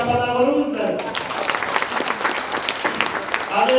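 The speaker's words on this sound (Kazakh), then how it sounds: "Әзіл болмаса шапалақ ұрыңыздар." An audience claps at a joking stage performance. A brief voice at the start gives way to a burst of close, crisp, dense applause for a few seconds before the voice returns.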